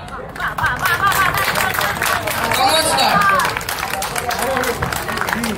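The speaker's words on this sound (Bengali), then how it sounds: "সকলকে আবার করতালি" An audience applauds the young actors after a stage play performance, loud sustained clapping with cheers and chatter, as a performer greets the crowd over it.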